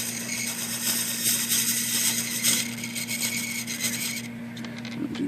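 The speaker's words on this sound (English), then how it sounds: "I'm going to trim off just a small layer, run my knife across there and just keep trimming." Steel knife blade scraping and trimming a plastic center hub pulley from an IBM Selectric typewriter, a continuous close raspy rubbing with a steady hum beneath, easing off near the end.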